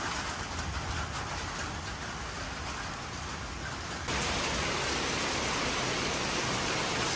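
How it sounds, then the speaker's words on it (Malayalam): Steady rain pours down as a continuous hiss, growing heavier partway through, with no voices. "മഴ ഇങ്ങനെ ചാറി തുടങ്ങി"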